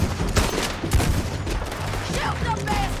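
Red Dead Redemption 2 gunfire cracks in a rapid volley of close shots, several distinct reports in quick succession with a few whistling ricochet-like tones toward the end.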